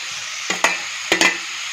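Green chillies added to hot oil with onions while cooking dry fish curry: a constant close sizzle broken by two pairs of sharp stirring clacks from a spoon against the pan.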